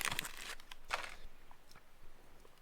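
Crisp crunching bites into a chocolate cream nut snack, a few short crackly bursts close to the mic followed by quieter chewing, faint and without talk.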